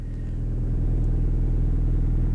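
The Porsche Carrera GT engine idles in Car Mechanic Simulator 2018, a loud, steady low rumble with a pulsing throb that swells slightly and stays constant without revving.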